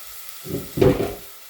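Pork ribs being sautéed in a hot pan, a short loud burst of sizzling and hissing that swells and then fades over about a second, close up, with no one talking.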